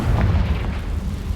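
A deep booming blast from the Confringo fire spell in the wizarding game Hogwarts Legacy, a low rumbling explosion with a brief crackle that lingers and fades over about a second.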